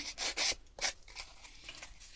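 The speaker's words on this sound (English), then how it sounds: "a little bit of fine sandpaper takes those edges off nicely" Fine sandpaper rubbed over the edges of an old bookmark, a few quick close rasping strokes followed by softer, fainter scrubbing.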